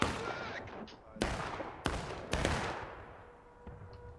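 Musket gunfire in the multiplayer game War of Rights, several loud sharp reports in quick succession with echoing tails over a busy battlefield din.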